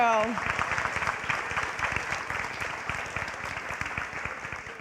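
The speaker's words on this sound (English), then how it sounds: "let's do one more round of applause" Audience at a high school senior awards event gives a sustained round of applause, dense and even, beginning under a brief voice and tapering slightly at the end.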